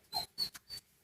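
A dog makes three or four short, soft whimpering breaths or huffs in quick succession, close by and quiet.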